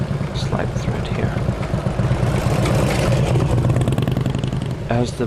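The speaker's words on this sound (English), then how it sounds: "As the bike passed, you may have heard a rattle." A 2000 Indian Chief motorcycle with fringed saddlebags rumbles past close by with a steady, loud engine drone and a rattle, while a voice speaks faintly over it.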